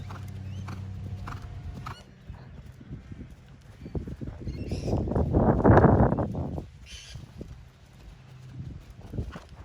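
A horse being schooled in dressage walks and moves in the arena, with soft hoof thuds and a louder rumbling swell in the middle, as a rider's voice is heard faintly at times.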